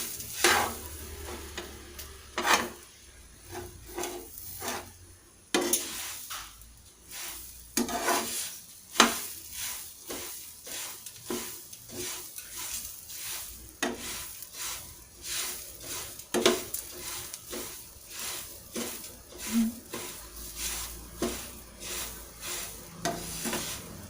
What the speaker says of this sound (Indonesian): Ini diaduk terus biar tidak gosong ya.